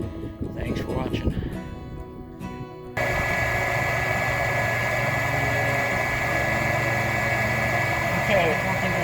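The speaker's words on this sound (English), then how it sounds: "So there you go. Pump works." A Vevor 0.5 horsepower water pump starts after a few seconds of talk, then runs with a loud, steady motor hum and whine that continues unbroken to the end.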